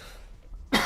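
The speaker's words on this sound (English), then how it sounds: "If I cough or sound nasally or whatever, I apologize." A single sharp cough bursts out at the very end, loud and close, after a stretch of near silence, from someone recovering from a cold.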